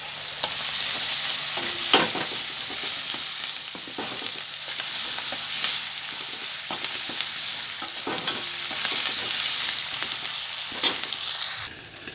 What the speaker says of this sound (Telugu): అల్లం మిరపకాయ పేస్ట్ కూడా ఈ నూనెల్లే మగ్గిపోవాలి